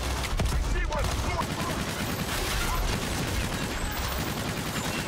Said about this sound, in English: They seem to be shooting at me still, sir.